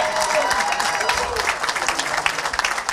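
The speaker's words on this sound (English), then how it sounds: "please give me a round of applause for my father" A banquet audience at a Man of the Year event applauds steadily for the speaker's father, a dense continuous wash of many hands clapping with some crowd noise and faint voices mixed in.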